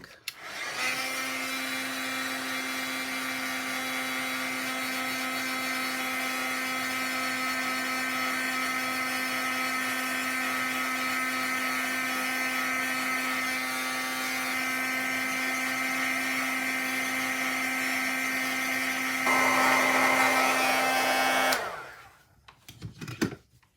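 A heat tool runs steadily for about twenty seconds while drying freshly stamped ink on a papercraft project, a constant whirring hum with a slight pitch shift near the end before it cuts off abruptly.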